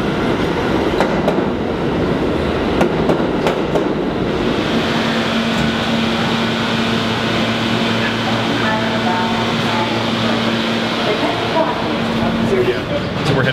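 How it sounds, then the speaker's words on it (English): A New York subway N train rolls along the rails with steady rumble and clickety-clack, a sustained tone rising in the middle, while a voice talks over the ride. "So we're heading back to Sunset Park now on the N train."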